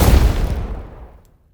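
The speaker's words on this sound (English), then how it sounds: "And you might think that this is a decent explosion on its own" A layered designed explosion with fire elements, left unprocessed, hits with a loud deep boom and then rumbles and fades away over about a second, with no voices.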